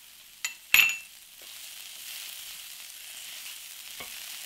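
Samosa potato filling with peas, cilantro and garam masala cooks in a pan with a faint, steady low sizzle, opened by a couple of sharp utensil knocks and a soft tap near the end.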